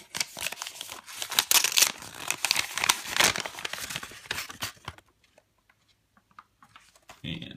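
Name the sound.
tearing open an envelope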